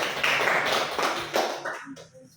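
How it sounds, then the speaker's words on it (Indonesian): A junior high classroom claps for two students who solved algebra problems on the board, a short burst of hand claps nearby that thins out and dies away within about two seconds. "Tepuk tangan untuk Yusuf dan Nikita."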